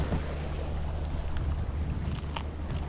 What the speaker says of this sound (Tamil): பெரிய ஒரு ராட்சச மோட்டரை வச்சு உறிஞ்சி உறிஞ்சி வெளியே தள்ளுறாங்க